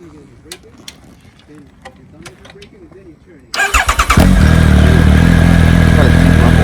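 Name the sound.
2019 Triumph Speed Triple 1050 RS motorcycle engine starting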